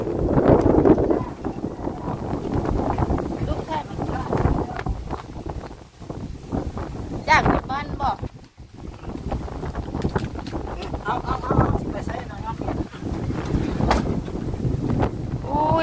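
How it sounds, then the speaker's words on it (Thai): Gusty wind buffets the microphone with rough, rumbling bursts throughout, while voices talk faintly underneath. "ลมเย็นเย็น"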